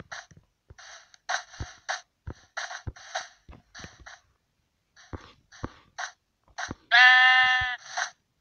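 Soft clicking footsteps tap irregularly in Minecraft, then a single loud, wavering sheep bleat rings out near the end.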